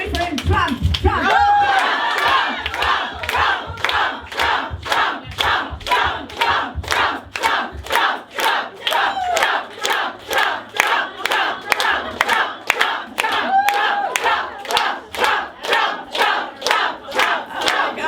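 A Women United for Trump rally crowd chants "Trump" in a steady rhythm with loud, sharp clapping on each beat, a dense mass of voices and hands filling the room.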